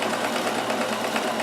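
A Kenmore 158.1914 sewing machine runs a rick-rack stitch at its shortest length, giving a close, steady, rapid mechanical whir and clatter without a break.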